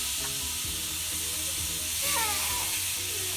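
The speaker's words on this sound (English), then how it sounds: "You wanna hear that sizzle as you put it on." Jerk chicken pieces sizzle loudly on a hot grill, a steady dense hiss and crackle close up, with a brief squeak of moved metal partway through, no talking.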